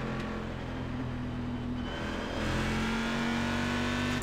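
A GT1 race car's engine holds a steady, high-pitched drone in iRacing at Watkins Glen, the note dipping briefly as the throttle lifts and then climbing back under load, loud and continuous with no one talking.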